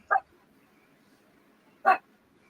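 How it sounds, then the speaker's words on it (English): Dogs give two short, sharp barks about two seconds apart, moderately close, separated by near silence. "My dogs are barking."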